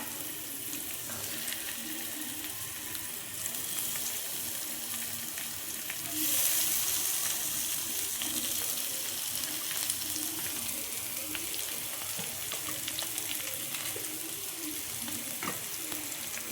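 Sardines frying in a pan at home, a steady broadband sizzle that holds throughout and swells briefly in the middle, with occasional stirring and faint water sounds nearby.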